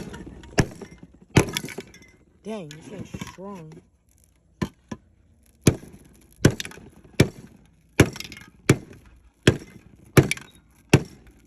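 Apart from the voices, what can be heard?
cutting open an empty spray paint can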